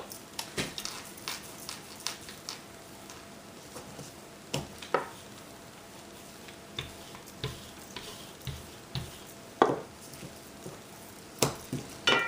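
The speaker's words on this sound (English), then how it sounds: "Hear that sizzle in there?" Soft sizzling of a rice flatbread in a hot pan with olive oil, punctuated by repeated light clicks and taps at an irregular pace; no talking.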